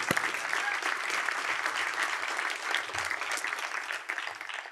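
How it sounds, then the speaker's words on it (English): Audience applause for a media team at an event, a dense, steady round of clapping from a roomful of people, loud and sustained throughout with little else over it. "And let's give Jonathan's team a round of applause, because they did a great job today."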